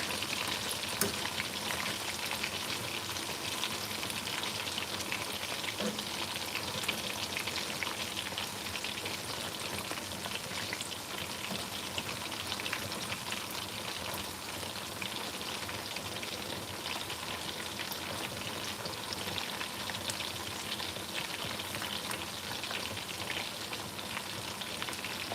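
Food frying over an open fire with tomato in the pan, giving a continuous even sizzle and hiss at moderate level with no talk.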